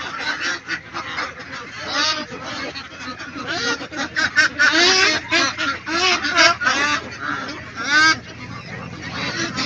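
Ducks at a large duck farm, a dense chorus of loud, overlapping honking quacks from many birds close by, with some squabbling, continuous throughout.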